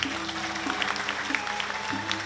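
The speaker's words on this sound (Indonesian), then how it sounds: "tepuk tangan." Audience applause at a Balinese drama gong performance: a dense patter of clapping that carries on steadily under sustained musical tones and faint voices.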